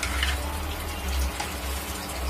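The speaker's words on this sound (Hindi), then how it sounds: "ये हो रही है पानी की मिलावट।" Water pouring into a cooking vessel during home cooking, a soft continuous gushing and trickling heard alone at low volume for a couple of seconds.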